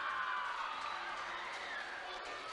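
Steady crowd cheer and whoops fill a weightlifting competition hall at the junior world championships, a broad continuous roar throughout with some faint voices mixed in.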